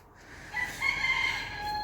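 Roosters crow on a farm in late November, one long rising call sounding a little way off and running to the end of the short stretch, with no talk over it.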